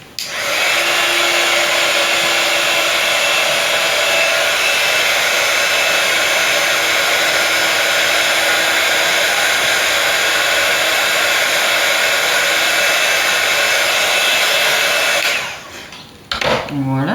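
A heat gun blows hot air over powder to melt it. A loud, steady roar runs continuously and then cuts off abruptly near the end, followed by a brief rattle.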